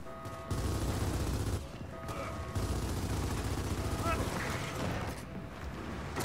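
Video game gunfire rattles in dense, continuous bursts with short breaks, loud and close, with voices talking over it.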